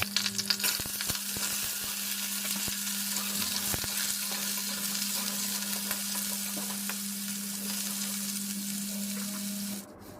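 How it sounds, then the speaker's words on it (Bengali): Beetroot, carrot and potato fry over medium flame in a pan with fenugreek, fennel and black cumin seeds, a steady close sizzle broken by sharp scraping stirs early on, with no talk. "মিনিট 5 মিডিয়াম ফ্লেমে রেখে সব সবজিটাকে আমি ভেজে নিলাম"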